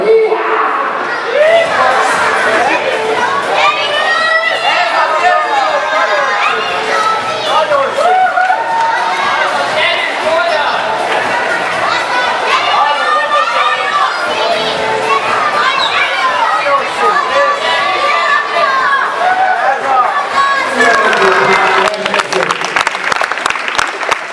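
A crowd at a school gymnastics competition screams, cheers and claps loudly and continuously, with children's shrill shouts mixed in and an announcer's voice heard over the din.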